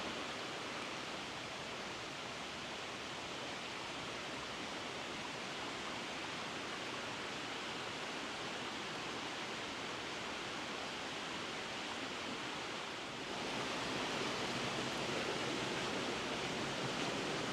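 A river flows beside a swamp at night, a steady, even wash of running water that grows slightly louder and fuller near the end, with no voices.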